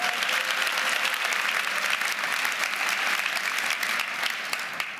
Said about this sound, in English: that's fine to applaud